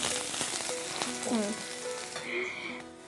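Onions frying in a pan give a loud, dense sizzle, with a few tonal clinks and scrapes mixed in.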